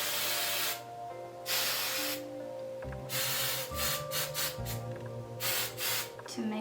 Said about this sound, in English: Grab some hairspray.